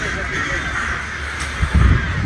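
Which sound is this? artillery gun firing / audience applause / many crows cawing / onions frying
many crows cawing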